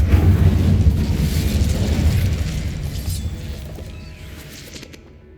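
An Incendio fire spell goes off in Hogwarts Legacy, a loud, deep roaring burst of flame that hits at once and then slowly dies away over several seconds.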